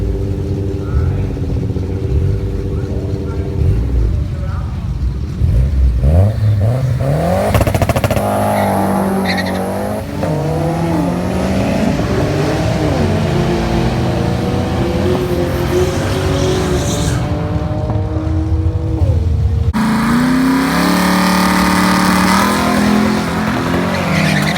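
A Mazdaspeed6 revs hard and launches repeatedly, its engine climbing through rising, stepped harmonics with tire squeal and skidding noise, loud and close throughout with brief pauses between pulls.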